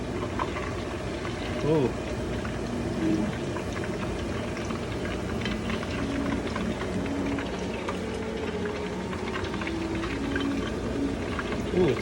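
Food bubbles and crackles steadily in hot beef tallow, a close, continuous boiling fry with fine popping throughout, while someone talks quietly over it.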